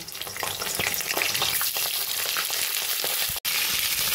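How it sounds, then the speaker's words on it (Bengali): Sliced pointed gourd (potol) fries in hot oil in a kadai, a dense continuous sizzle with crackling pops and occasional stirring scrapes, close and loud, with a brief dropout near the end. "এবার আমি পটলগুলোকে প্রথমে ভেজে নেব।"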